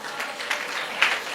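A church congregation claps together during a sermon, a brief burst of dense applause from a room full of people, close and fairly loud.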